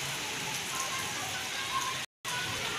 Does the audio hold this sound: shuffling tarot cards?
no